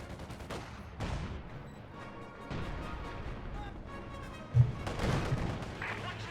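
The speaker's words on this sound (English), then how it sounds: "Howitzer's currently firing." A howitzer fires in the strategy game Company of Heroes 2, sending heavy booms that land at intervals over a low battlefield rumble, one blast standing out louder near the end.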